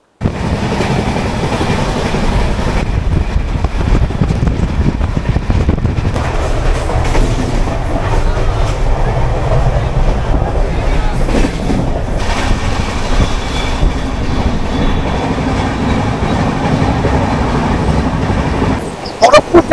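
Dhauli Express from Shalimar to Puri, running at high speed near Kharagpur, heard from inside as a loud, continuous roar of wheels and rail rumble with clattering and faint squeals that holds steady for the whole stretch.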